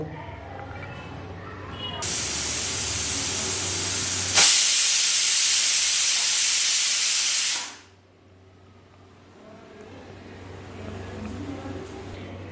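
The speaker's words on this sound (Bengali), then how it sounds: "প্রেসার কুকারে স্টিম বেরিয়ে যাওয়ার পর ঢাকনা খুলে নিচ্ছি।" A pressure cooker steaming a dish of mustard-poppy hilsa vents a loud, steady hiss of escaping steam for several seconds, then it cuts off abruptly, leaving a quiet kitchen hum.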